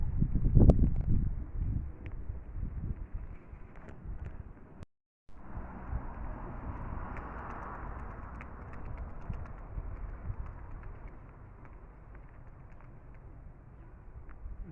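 Steady wind rumble and microphone buffeting fill the scene, strongest at first, with light tapping noises scattered throughout, in light rain.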